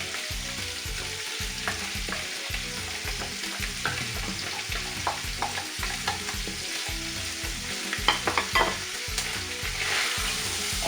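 Onions browning with beef in a pan for a beef, carrot and potato curry, a close, steady sizzle with spatula scrapes and clacks over a low rhythmic pulsing hum, no speech.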